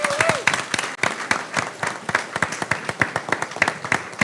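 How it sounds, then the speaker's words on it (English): An audience at a school board meeting applauds, a brisk run of many close, sharp hand claps that continues steadily for several seconds and then starts to thin out, with no speech. "So let's give Miss Georgia a round of applause."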